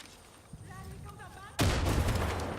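In the Far Cry 5 video game, a real explosive detonates with a sudden loud burst near the end, following a quieter stretch of background game sound with brief chirping tones and someone talking.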